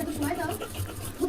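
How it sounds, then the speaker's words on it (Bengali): Onion, garlic, dried chili and salt are ground together into a paste, probably on a grinding stone, making a soft, rhythmic scraping rub that runs under a speaking voice. "দিলাম পেঁয়াজ এবং রসুন, একটু বেটে নিচ্ছি।"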